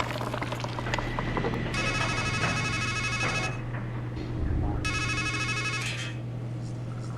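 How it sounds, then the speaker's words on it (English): A telephone rings in two electronic trilling bursts separated by a pause, clear and fairly close over a low steady hum, with no one talking. "Then a phone rings"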